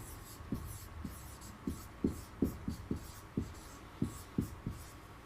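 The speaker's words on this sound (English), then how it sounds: "Let me write that." Handwriting during an English vocabulary lesson, with a quick series of soft scratchy strokes and taps, about a dozen short marks at an uneven pace, close but faint, with no talk.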